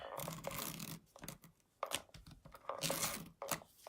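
Adhesive tape is pulled and pressed down onto a Christmas card, giving close, crackling, tearing rasps in a few quick bursts separated by short quiet gaps.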